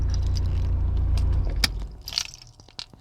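A car's engine idles with a low rumble, then shuts off and cuts to quiet, followed by scattered close clicks and light rattling inside the cabin.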